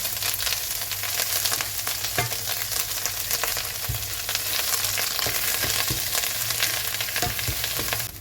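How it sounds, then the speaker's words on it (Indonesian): Ground spice paste sautéed with shallots and dried shrimp in hot oil, a loud continuous sizzle with scattered spatula clicks and scrapes throughout, no voices. "Kita tumis bumbu yang sudah dihaluskan, bawang dan juga ebi. Tumis sampai wangi teman-teman."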